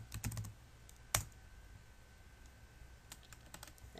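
A password is typed on a computer keyboard, close and quiet. A few quick keystrokes come first, then a single sharper key press, likely Enter, a pause, and a short final burst of taps, with no talk.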